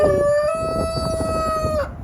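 A Rhode Island Red chicken on a farm gives one sustained call of about two seconds. The call is clear and tonal, rising slightly at the start, then holding steady before it drops away, with light wind noise underneath.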